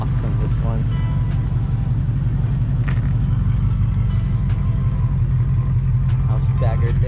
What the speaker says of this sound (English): I like the exhaust on this one.